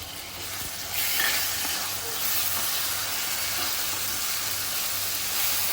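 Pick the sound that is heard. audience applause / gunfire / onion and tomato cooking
onion and tomato cooking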